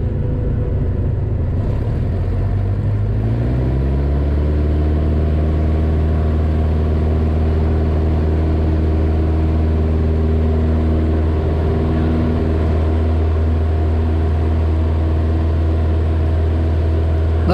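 A Luscombe tailwheel airplane engine roars steadily at full power during takeoff, its tone climbing in pitch over the first few seconds and then holding a loud, constant drone.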